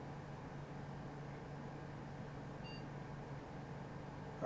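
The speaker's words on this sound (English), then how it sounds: "All right, here the post beep." A single short, faint electronic POST beep from a computer at startup sounds once over a steady low hum of background noise, with no talking.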